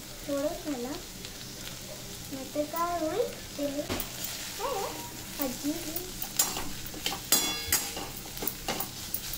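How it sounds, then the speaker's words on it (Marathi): A jackfruit seed vegetable dish sautés in a pan, with a steady sizzle under someone speaking in the first half, followed by sharper clatter and scraping as it is stirred. "आता भाजी चांगली परतून घ्यायची."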